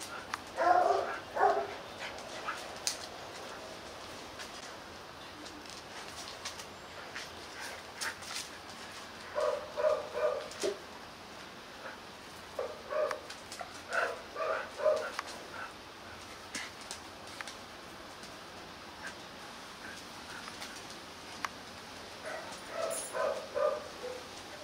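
A pair of village dogs, a certified F0 breed, whimper and bark in short scattered bursts, fairly near but soft, over a quiet background.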